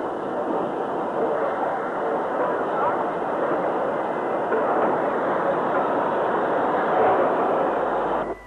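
Steam locomotive 82032, in unlined green livery, hauling a northbound Class 6 freight train into Towyn on the Cambrian Coast, with a steady, loud, dense rumble and rush of the passing train throughout.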